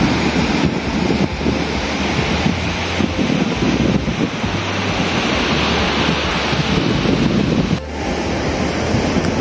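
Waves wash steadily onto a quiet beach in Phuket at sunset, a broad continuous surf roar with wind buffeting the microphone and a brief dip near the end.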